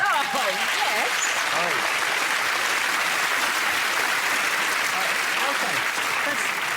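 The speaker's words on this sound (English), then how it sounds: "Before we get carried away with applause" Sustained applause from a crowd, steady and fairly loud throughout, with a few faint voices mixed in early on.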